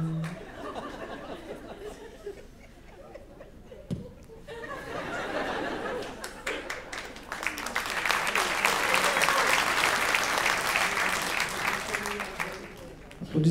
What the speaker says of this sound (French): Applaudissez pas, ça m'a fait peur en fait